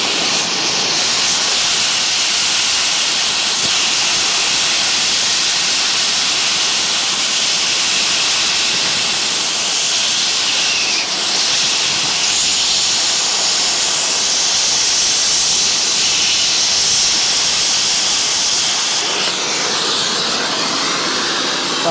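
A cutting torch roars as it heats and cuts through a pin flag on heavy machinery, giving a loud, continuous, close hiss that holds steady with slight shifts throughout.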